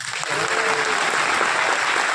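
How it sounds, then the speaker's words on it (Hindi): An audience in a hall in Pune breaks into applause, a broad continuous clatter of many hands that swells in quickly and stays loud and even. "तालियां बहुत कम है भाई"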